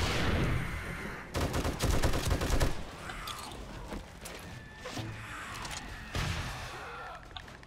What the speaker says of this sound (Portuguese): Onde é que foi esse tiro de míssil,